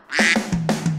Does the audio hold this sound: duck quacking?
yes